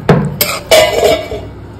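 A metal pot lid is lifted off a pot of boiling banana stem, giving a few sharp close clinks and scrapes in quick succession, then a softer clatter.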